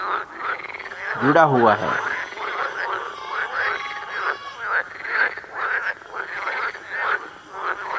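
Frogs croak by a pond in a narrated story, with one sweeping, rising croak early on and continuous spoken narration running over the rest.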